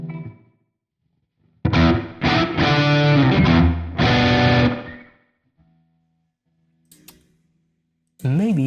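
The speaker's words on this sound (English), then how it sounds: "At this point it kind of sounds like a reverb" A heavily processed, distorted guitar-like passage plays through a very short delay effect, its repeating echoes blurring into a dense, reverb-like wash, then stops abruptly; a voice briefly follows.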